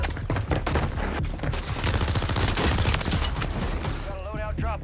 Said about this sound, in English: Now I'm being shot by someone else.